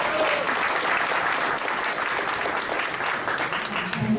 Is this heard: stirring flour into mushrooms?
no